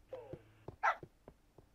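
A tamed wolf in the Xbox 360 edition of Minecraft gives a few short, close barks and whines, spaced irregularly in a quiet room.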